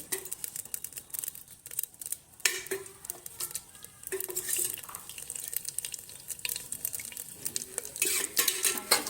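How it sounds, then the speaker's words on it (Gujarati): Cumin and oil sizzling in a pressure cooker, a light crackling fry broken by repeated metallic stirring scrapes and clinks, close up with no speech. "તો આપણું જીરું હવે શેકાઈ રહ્યું છે, તો એમાં એડ કરીશું આપણે 2 કળી જેટલું તેલ।"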